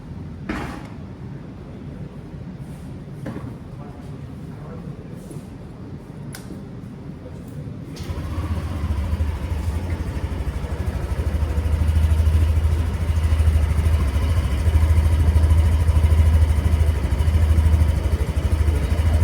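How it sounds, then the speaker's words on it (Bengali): A Yamaha Aerox 155 scooter sits quiet with a few faint clicks, then the ignition catches and the engine settles into a steady, close low idle hum that grows slightly louder. "এটার একটু ইগনেশন সাউন্ডটা আমি আপনাদেরকে শুনিয়ে দিচ্ছি"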